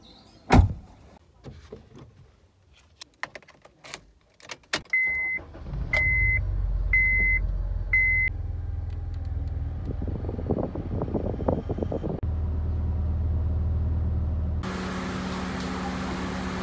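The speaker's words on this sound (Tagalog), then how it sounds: "hintayin lang natin uminit yung sasakyan" A 2007 Honda Civic FD starts and settles into a steady low idle to warm up, preceded by door clunks, a few chime beeps and power-window whirs, heard close with no talking.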